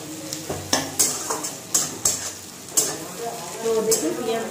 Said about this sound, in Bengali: তো দেখুন পেঁয়াজগুলো এইভাবে ভাজা হবে হালকা ভাবে।